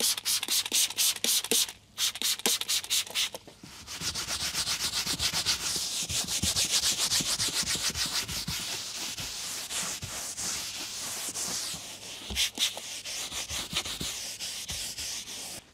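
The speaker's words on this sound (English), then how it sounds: "For most of the work, I just use a scrub pad." A scrub pad rubs and scrubs surfaces inside a Mercedes GLE during a deep interior cleaning, giving steady, close, continuous scratchy friction with rhythmic strokes and a brief pause early on.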